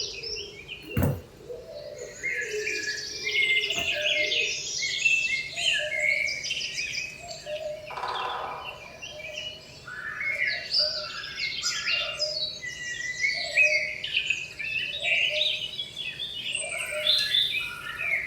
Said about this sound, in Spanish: los aves del bosque van incorporándose al sonido de la mañana